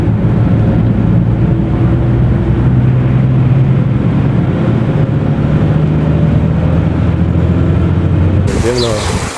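A big vehicle drives past near Khojasan metro station, producing a loud, close, continuous low engine rumble that holds steady throughout and shifts briefly at the end.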